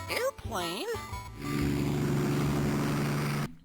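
A small aircraft's engine drones steadily and fairly loud through the second half, following a brief burst of high, bending synthesized tones at the start; it comes from the children's TV show GÜBY & Friends.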